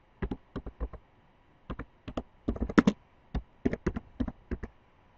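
Keys clatter on a computer keyboard as a sheet name is entered in Excel, quick bursts of crisp clicks in short irregular runs separated by brief pauses, close and clear.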